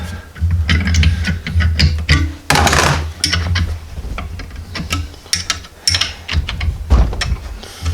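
Wrench working the nuts loose on a TGR professional brake line flaring tool, giving a run of close, loud metallic ratcheting clicks and clanks in an uneven rhythm with brief pauses.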